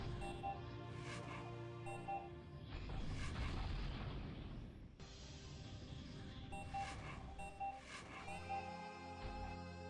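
Heavy earthquake attack rumble from the online strategy game Shattered Galaxy, a dense booming roar with bursts and explosion-like swells layered over game music, continuous and loud for the whole stretch with no speech.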